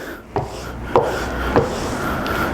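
Back of a new Narex 8116 chisel pulled flat across a sharpening stone to remove the burr, three separate rasping strokes about half a second apart, close and clear.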